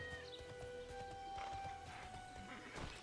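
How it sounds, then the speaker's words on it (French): Horse hooves clip-clopping at a steady walking rhythm while riding in the online role-playing game TERA, clear and close over game music with tonal chimes. "Hop, on y va à cheval, hein, on va gagner un peu de temps."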